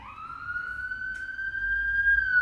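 A wailing siren plays continuously, loud and close, a steady rising tone that holds without pause and sits well above a low background rumble.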